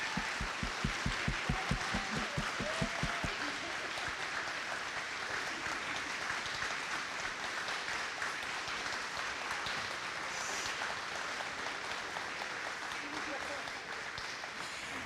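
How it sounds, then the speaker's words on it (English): Sustained audience applause fills a college spring convocation hall, dense and steady throughout, opening with a few distinct rhythmic claps before merging into a broad wash of clapping. "Can you join me in a round of applause?"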